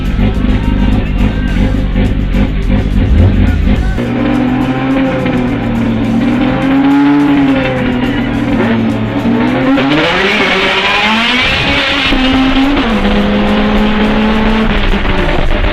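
A Mazda 323F Lantis V6 KFZE 2.0 engine with manual gearbox revs up and down repeatedly, its pitch rising and falling in loud surges close by, climbing to a higher whine near the end.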